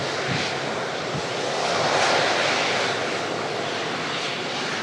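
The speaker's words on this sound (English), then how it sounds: "Emirates A380 now well and truly on the descent" An Emirates Airbus A380 airliner descending toward Manchester Airport: a steady, broad engine roar that swells gently in the middle and then eases, with no voices.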